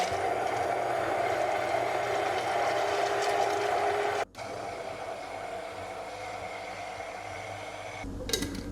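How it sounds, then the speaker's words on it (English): An immersion blender fitted with a whisk attachment whirs steadily while mixing sugar into a syrup, a continuous motor drone that briefly cuts out near the middle, then resumes for the rest of the clip. "I have my immersion blender here. I do have a whisk attachment"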